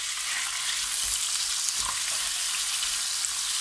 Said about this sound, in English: Ngayon, ang bacon, ito toasted natin.